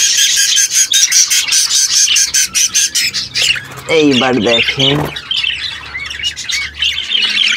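A myna bird squawks in harsh, repeated bursts close by, amid fluttering and scuffling, while someone talks over part of it.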